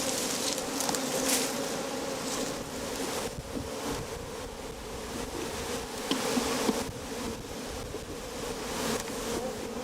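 A steady, dense buzzing of many bees swarming around a beehive, close and continuous for the whole stretch, with faint wind-like hiss behind it and no talking.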